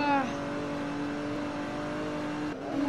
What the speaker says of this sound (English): this car is going almost 90 miles per hour